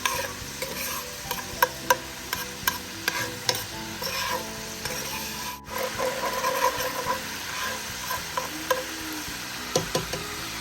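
Food frying in a pan while cooking shrimp and spinach pasta, a continuous sizzle with regular spatula stirs and scrapes close by, no voices.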